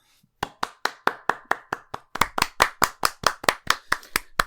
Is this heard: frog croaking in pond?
no